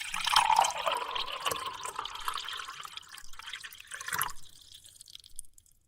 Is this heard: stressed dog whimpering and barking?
no